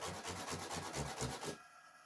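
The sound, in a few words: sanding the end of a piece with sandpaper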